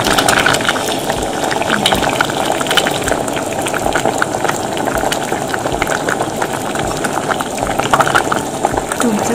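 Red lotus tea simmers in a pot of water, a continuous bubbling and gurgling boil with scattered pops running throughout, with someone speaking over it.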